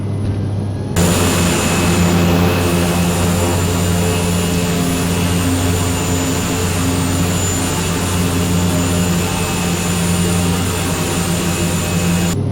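Short 360 turboprop from a flight simulator on its takeoff roll, a loud, steady engine drone with a strong propeller hum and whine that starts abruptly and holds constant throughout.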